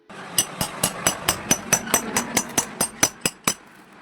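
A hammer strikes a chisel to cut through a ceiling fan's wire coil, about fourteen sharp metallic blows in a steady rhythm, close and loud, with no speech.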